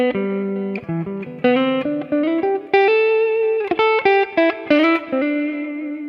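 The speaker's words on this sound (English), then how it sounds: "you can hear kind of just the clean sounds of this specific Anthem PAF." Clean electric guitar tone from an Anthem PAF humbucker with stock winding, run through a Fractal FM3 with reverb and delay: single notes and short chord phrases with ringing sustain and gaps between phrases, loud and close.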